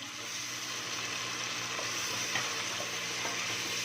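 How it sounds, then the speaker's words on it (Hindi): Chopped tomatoes sizzle and fry in a pan for pumpkin chana dal, a steady close crackle with occasional stirring scrapes. "अच्छे से हमने इसकी भुनाई करनी है"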